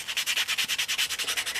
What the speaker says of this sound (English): This is P180 sandpaper, and I just go across and just start sanding away.